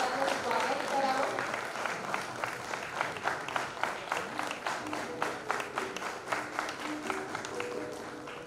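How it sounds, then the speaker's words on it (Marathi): Audience applause greeting the launch of a book, The Fury of Hunger, at a public release event, heard as steady rhythmic clapping from a crowd, mid-distance and fairly full, continuing for several seconds. "आपण सगळ्यांनी मला वाटतं टाळ्या वाजवून आपण या पुस्तकाचं स्वागत करावं."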